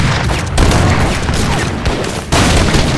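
Artillery barrages and massed musket volleys crash out in an Age of Empires III battle, a dense, continuous roar of booms and crackling shots with a sharp new burst near the end.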